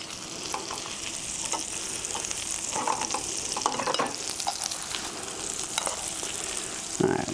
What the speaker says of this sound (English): I'm going to add these in with the apples and onions and let them get hot.